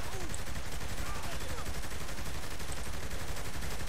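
Rapid gunfire from the video game Saints Row The Third, a dense, continuous barrage of shots filling the whole stretch at steady loudness, with faint talk mixed underneath.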